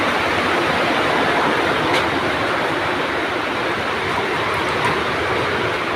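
Heavy, unbroken rain roars as a dense, loud wash of noise for the whole stretch. No voices are heard.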